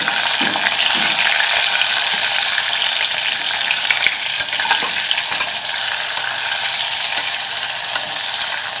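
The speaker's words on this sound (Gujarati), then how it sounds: "સાથે જ રીંગણ પણ મૂકીશું એકવાર મિક્સ કરી લઈએ" Potatoes and brinjal sizzling steadily in an oiled pan with a pinch of asafoetida, a loud continuous fry with occasional scraping stir strokes, no talking.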